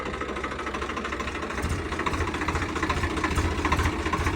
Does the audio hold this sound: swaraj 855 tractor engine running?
yes